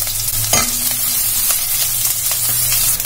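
Crushed garlic dropped into hot oil for South Indian rasam, giving a steady close-up sizzle and frying hiss with a sharp burst as it hits the pan, then light stirring scrapes throughout.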